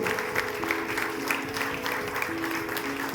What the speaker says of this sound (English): Loud applause for them, please.